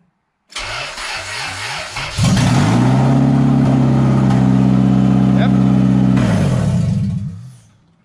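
A car engine with no exhaust fitted, running straight off the manifold, is cranked over a few times, fires, then runs loud and rough at a steady idle for several seconds close by before shutting off.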